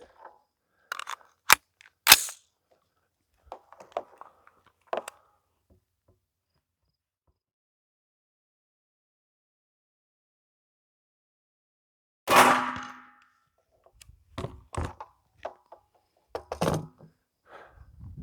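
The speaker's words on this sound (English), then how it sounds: "this was a dead center shot from 10 yards out of a 20-inch barreled AR-15" An AR-15 with a 20-inch barrel fires an M193 round at a steel plate from 10 yards: sharp, bright cracks early, then a long silence and a loud burst with ringing, clattering tail.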